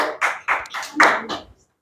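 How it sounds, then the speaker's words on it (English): A tutorial class of students gives a brief round of clapping for a classmate, a few loud bursts of hand claps close by that stop abruptly after about a second and a half. "Shall we clap for her,"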